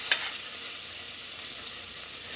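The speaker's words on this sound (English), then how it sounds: "I'm going to take my spoon, stir this butter around" A spoon stirs softening butter in a pan, a faint steady sizzle with a soft scrape near the start, heard alone.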